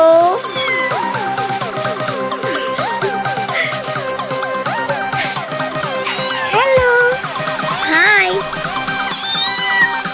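A cat meows repeatedly with varied, rising and falling calls, close and loud, nearly continuous throughout, with people talking in the background.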